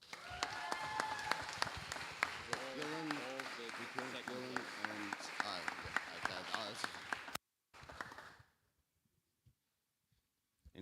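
Audience applause for the state winner at a Stax Climbing Vic state open lead and paraclimbing competition, with speech and a harmonic voice heard over the clapping crowd for about seven seconds before it cuts off to near silence.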